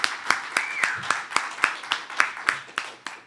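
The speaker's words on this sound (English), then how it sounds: "One more time, let's give her a round of applause." A small audience claps at a Spiritual Unity Movement summer nights event, with sparse, evenly spaced individual claps in a light, steady rhythm, fairly quiet throughout.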